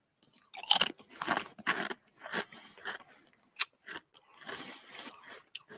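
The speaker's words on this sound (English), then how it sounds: "They're very crunchy." Loud, close crunching and chewing of Pringles Italian Style Black Pepper & Parmesan Cheese crisps, a rapid series of sharp crackly bites followed by steady munching, with no talking.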